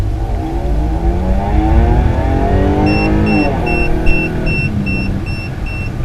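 A car engine revs hard past 5,500 RPM, its loud, rising whine close and sustained, while a regular electronic beeping chimes over it for the second half.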